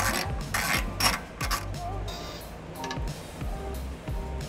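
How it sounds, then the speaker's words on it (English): A 12 mm socket and ratchet work exhaust hanger nuts loose under a 2003 Nissan Altima, giving rapid, close metallic clicking in repeated bursts with brief pauses between strokes. "Using a 12 millimeter socket and ratchet."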